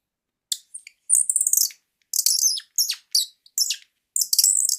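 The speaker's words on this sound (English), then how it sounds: "Sounds like birds." High, bright bird chirps come in short bursts and trills with brief silent gaps between them, clear and close with no other sound.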